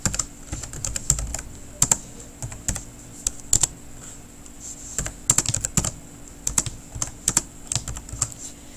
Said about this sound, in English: all I'm going to do is type inside the text boxes